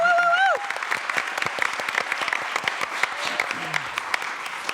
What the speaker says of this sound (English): so a big applause for them.